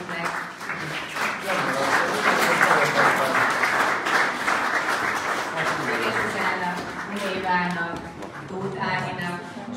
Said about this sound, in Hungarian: szeretnék kérni nekik név szerint egy tapsot is